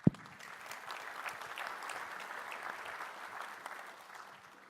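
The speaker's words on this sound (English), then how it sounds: "another big round of applause for these folks" Steady audience applause fills a tech conference hall, a dense wash of many hands clapping at even strength throughout, with one sharp clap right at the start and no talk over it.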